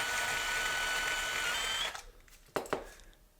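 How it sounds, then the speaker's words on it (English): A power drill whirs steadily for about two seconds, then stops, followed by a couple of sharp clicks and knocks. "That was a perfect drill. I like it when they go nice and smooth like that."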